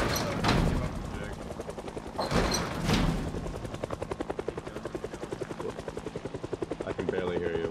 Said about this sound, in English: the helicopter is over here